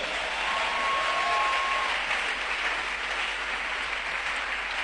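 A church congregation applauds in a steady, dense wash of clapping that holds at an even level for several seconds, with no voices standing out.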